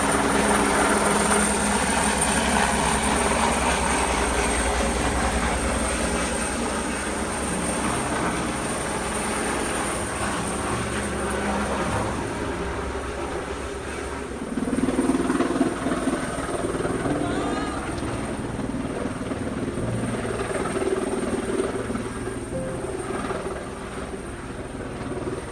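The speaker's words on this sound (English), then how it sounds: "one of our biggest problems throughout the filming of this movie is the downdraft from the helicopter" A helicopter hovers low over a sailing yacht at sea during a film stunt shoot, its rotor wash a steady loud roar that fills the whole stretch, with faint voices briefly under it.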